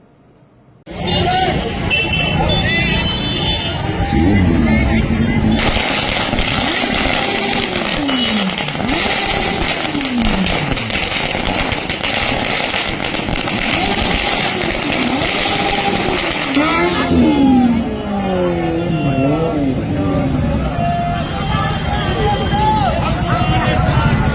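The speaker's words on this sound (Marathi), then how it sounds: "मध्य नाशिकमधून भव्य बाईक रॅली निघाली" Motorcycles revving and droning at a large election campaign bike rally in central Nashik, with crowd babble, loud and continuous throughout with engines rising and falling.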